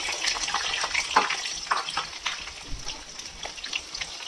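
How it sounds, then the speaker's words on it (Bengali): Three large sliced onions go into a pan with cloves and black peppercorns for Rajasthani laal maas, frying with a soft, uneven crackle and intermittent stirring scrapes at close range, fairly quiet and without speech. "ভাজবো, একদম ব্রাউন করব না, ধীরে ধীরে এটাকে একটু ভেজে নেব"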